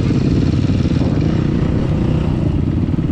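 A steady, loud engine drone from an LTZ 250 motorcycle, running continuously throughout with a dense low rumble and no clear revs or pauses, outdoors on forest terrain.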